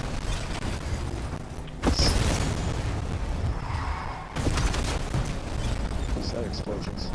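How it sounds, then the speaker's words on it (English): Explosions in a video game hit in two loud, broad bursts, each followed by rumbling debris and mechanical creaks, with faint game sounds between them. "got explosions."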